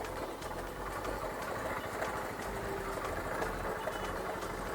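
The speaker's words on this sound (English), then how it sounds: "the engine is making all sorts of noises where the bike won't move further after I start" A broken motorcycle engine running roughly with knocking and vibration, a steady mid-to-low mechanical drone with irregular rattles throughout, close and fairly loud with no talk.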